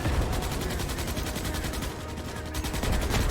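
A sentry turret in Starship Troopers: Extermination fires rapidly and continuously, a fast, even rattle of shots sitting close and steady throughout.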